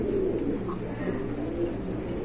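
Caged Bombay pigeons coo nearby in low, soft, repeated throaty murmurs over a faint background hum.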